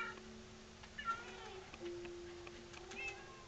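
A cat meows several times in Minecraft gameplay, short game-style mews at moderate volume over steady background game audio.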